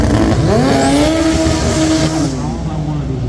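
A Honda CRX and a Civic hatchback race at a street car drag event, engines roaring loudly with a rising, shifting whine and tire noise, crowd sound and voices mixed in throughout.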